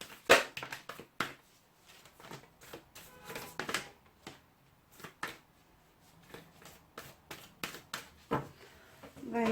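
A deck of tarot cards is shuffled by hand in close, quiet bursts of riffling and tapping, with short pauses between shuffles.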